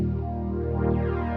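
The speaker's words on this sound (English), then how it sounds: "One of my favorites is the Pure pad" The Pure pad preset from the Alchemy synth holds a sustained, rich chord with a slowly shifting, sweeping filter texture, steady and fairly loud with no voices.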